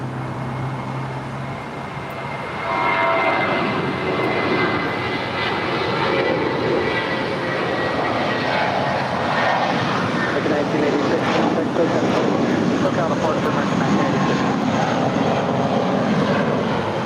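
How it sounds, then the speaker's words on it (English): A Virgin Atlantic Boeing 787 Dreamliner, in from London, taxis along the south side at LAX after landing on runway 24 right, its engines a steady, broad roar that swells after a quieter opening, with talk faintly beneath. "the Virgin Atlantic Dreamliner coming in from London, flight 7, now making her way over here on the south side after landing on 24 right"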